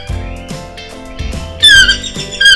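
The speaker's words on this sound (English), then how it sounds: "It's a toucan." Repeated squeaky squawks from a toucan, a few bursts in uneven rhythm, close and fairly loud against a soft low hum.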